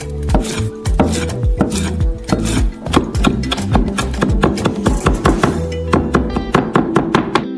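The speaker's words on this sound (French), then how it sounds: "Hachez finement la menthe." A knife chops mint finely on a wooden board in quick, steady strokes, a close and loud string of sharp thunks with no talking.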